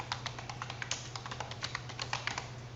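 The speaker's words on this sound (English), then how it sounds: "So we're going to go ahead and type in" Quiet, steady typing on a computer keyboard while a search term is entered into a website search bar, with rapid, even key clicks and no talking.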